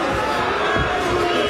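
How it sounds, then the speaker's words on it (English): A large crowd booing at a Bellator 150 MMA fight, a steady dense roar throughout with a commentator talking over it. "Crowd's booing"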